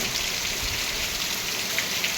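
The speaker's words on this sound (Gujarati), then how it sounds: "વરસાદ ચાલુ થઈ ગયો એકદમ ચેલું પાણી પાણી કરી નાખ્યું છે એકદમ" Dense, steady hiss of heavy village rain falling continuously and evenly, with no voices and no breaks.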